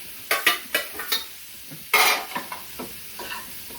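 Onion, tomato and coconut pieces fry in a pan, stirred with a utensil: a series of sharp scraping strokes and a loud burst of sizzling, then softer stirring scrapes, with no one speaking.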